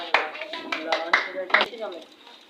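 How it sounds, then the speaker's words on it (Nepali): Children clap for Anushka, the quiz winner in a classroom quiz, with several sharp uneven claps close by under a teacher's speech. "अनुष्कालाई जोरदार ताली बजाऊ।"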